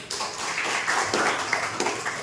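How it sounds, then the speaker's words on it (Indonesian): Small classroom group clapping together for a student, a brief, loosely rhythmic patter of individual claps, fairly close. "tepuk tangan untuk Tori"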